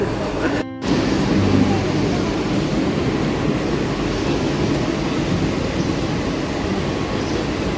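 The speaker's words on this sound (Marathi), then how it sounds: "फायनली गाईस ट्रेन येते आमची" A train pulling into a suburban station near Thane, a steady loud rumble of wheels and carriages running throughout with a brief break near the start.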